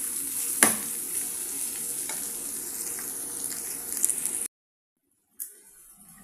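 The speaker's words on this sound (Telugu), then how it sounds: "ఇప్పుడు దీన్నంతా కలబెట్టేసి సిమ్లో పెట్టేసి ఒక 5 నిమిషాలు కలబెట్టుకుంటూ ఉండండి" Chicken liver fry stirred in a pan over low heat, a soft continuous sizzle with a few spoon scrapes, cutting to silence before the sizzle briefly returns.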